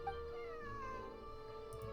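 A cat in Genshin Impact gives a single drawn-out meow, tonal and wavering, faint and alone against a quiet background hum.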